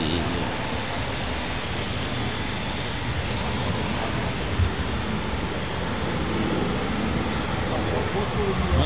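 An RAF Eurofighter Typhoon FGR4 takes off with reheat at RAF Coningsby, a loud, sustained broadband jet roar that holds steady throughout with little change in level.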